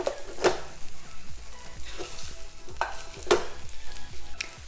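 Eggs fry and sizzle in a skillet alongside potatoes, with a steady crackle broken by several sharp scraping clanks of a utensil against the pan.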